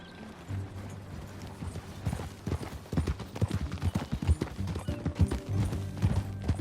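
Hooves of a ridden horse clip-clop in a steady trotting rhythm across a Red Dead Redemption 2 game scene, close and fairly quiet, building in pace toward the end with a soft whinny-like note.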